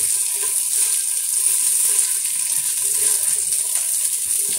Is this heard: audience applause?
no